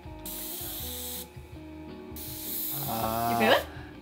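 Hissing bursts of mist from a Japanese high-tech beauty gadget, two long sprays with a whirring mechanical buzz underneath, ending in a short voiced sound, up close.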